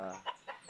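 Breeding chickens on a farm give a few short, soft clucks, faint and brief.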